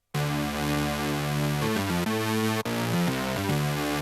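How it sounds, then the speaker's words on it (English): A virtual analog synthesizer plays sustained, harmonically rich notes that step between pitches in a short phrase, loud and alone, with a momentary dropout partway through. "virtual analog synthesizer with some distortion"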